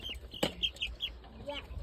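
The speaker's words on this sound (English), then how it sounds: "My sister's chicken is gonna run." Backyard chickens cluck and chirp outdoors in short, repeated calls at moderate distance, with faint voices in the background.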